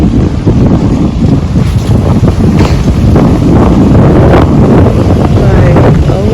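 Strong hurricane wind during Hurricane Laura roars and buffets the microphone in a loud, constant rush with gusty surges throughout.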